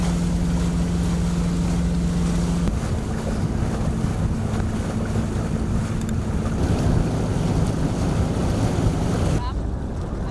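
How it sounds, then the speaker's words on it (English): Sailboat motoring under engine on the water toward Traverse City, with a steady low engine drone and a constant hum, mixed with wind buffeting the microphone and water rushing past the hull. "we cranked up the engine, set the autopilot, and motored our way back to Traverse City"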